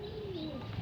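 One short, low warbling coo comes from a nearby agitated racing pigeon, heard alone over a faint steady hum.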